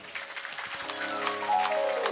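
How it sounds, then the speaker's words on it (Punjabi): An audience at a religious fair claps for an elder, a moderate patter of hands with a faint sustained tone in the background, growing a little fuller toward the end. "ਬਾਪੂ ਜੀ ਵਾਸਤੇ ਜ਼ੋਰਦਾਰ ਤਾਲੀਆਂ"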